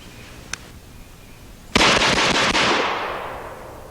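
A low-recoil gun being test fired, heard as a close, loud, rapid string of shots that blur into a roaring burst and slowly fade, after a single faint click.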